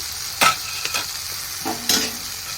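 Spice paste for a tengra fish curry fries in a pan while being stirred, giving two loud scraping bursts with quieter clinks of the spoon between them over a soft, steady sizzle.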